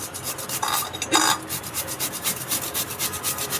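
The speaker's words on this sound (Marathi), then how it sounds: "माझ्याकडे अशा प्रकारची किसणी आहे आणि मी काकडीने किसणी किसून घेणार आहे" Cucumber rubbed against a metal hand grater for Marathi cucumber thalipeeth, giving a steady series of close, dry rasping strokes with two louder scrapes near the start.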